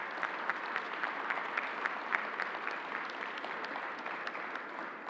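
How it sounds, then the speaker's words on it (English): Audience at the Javits Convention Center during a governor's COVID-19 briefing applauds steadily, a fairly distant, even patter of clapping with scattered louder claps. "Let's give Alan and the entire team a round of applause"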